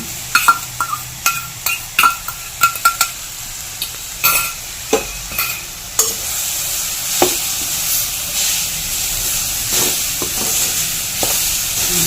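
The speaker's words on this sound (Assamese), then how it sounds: "এয়া মিঠৈখিনি দি দিছো আৰু লগতে এয়া নাৰিকলখিনি দি মই একেলগে ভাজি লওঁ" Jaggery and grated coconut fried together in a wok, with loud, rapid clinks and scrapes of stirring at first over a steady sizzle that grows more even and continuous.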